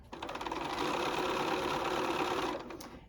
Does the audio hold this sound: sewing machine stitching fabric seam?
yes